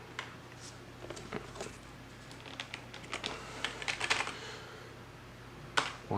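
A name and an email address are typed on a computer keyboard. Soft, uneven key taps patter close by, grow busier in the middle, and end with a couple of firmer strokes, with no voices.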